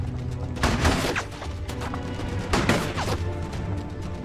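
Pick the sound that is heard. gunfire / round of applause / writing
gunfire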